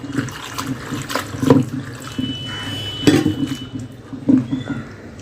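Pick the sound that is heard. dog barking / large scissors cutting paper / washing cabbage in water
washing cabbage in water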